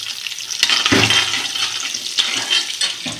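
Onions go into hot oil with spluttered mustard seeds, curry leaves, green chilli and ginger and are stirred in the pan; a close, continuous sizzle with scraping stir strokes and brief surges.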